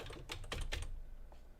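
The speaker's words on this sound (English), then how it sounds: "I'm just going to type that in" Keystrokes on a computer keyboard, a quick run of distinct taps clustered in the first second followed by a couple of lighter presses, close and clear over a low steady hum, with no talk.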